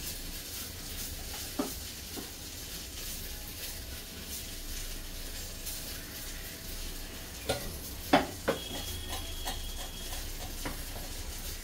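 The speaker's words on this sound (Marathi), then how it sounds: "म्हणून मी लसूण नाही जिरं राईची फोडणी देणार" Cumin and mustard seeds tempering in hot oil, with no garlic, for a Champa Shashti festival offering: a faint, steady sizzle runs throughout, broken by a few sharp pops and crackles near the end.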